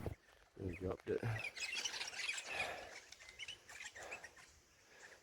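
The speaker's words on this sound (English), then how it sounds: "Oh, there's pretty nice birds." Small birds chirp and tweet in short bright bursts beside a creek cleared of blackberry, moderately close, mixed with rustling movement and some speech.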